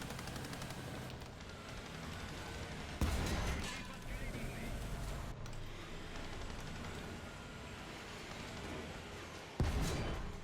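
Tank cannon fire in War Thunder from a T-80U Russian main battle tank, two heavy booming shots several seconds apart over a low rumbling battlefield bed.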